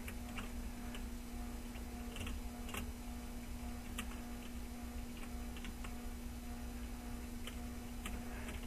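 Minecraft redstone clock ticking in a video game: quiet, regular sharp ticks repeating about every half second over a steady faint hum, with no talking.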